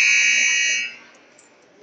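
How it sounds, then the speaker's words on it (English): An ice hockey end-of-period buzzer at a senior men's provincial game sounds in a loud, steady blare that cuts off just under a second in, leaving faint arena ambience behind. "we've got one second to go, and that's going to be the buzzer"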